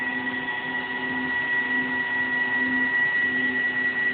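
A homemade CNC router milling with a half-inch square end mill, giving a steady, continuous whine with a constant tonal hum throughout, fairly loud and unchanging, with no talking.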